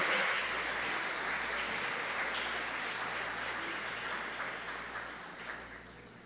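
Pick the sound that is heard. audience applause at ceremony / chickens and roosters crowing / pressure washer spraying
audience applause at ceremony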